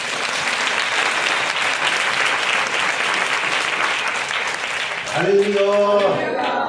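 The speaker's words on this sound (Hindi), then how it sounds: "जोरदार ताली बजाते" Loud applause from a congregation during a Hindi sermon, dense sustained clapping from many people for about five seconds before a voice begins speaking over its fading end.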